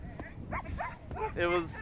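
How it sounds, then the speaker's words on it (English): Sled dogs are fed after a day's run on a polar expedition, with nearby barks and yips over a steady background of wind, while people talk throughout. "And now we're feeding the dogs because they did all the work today."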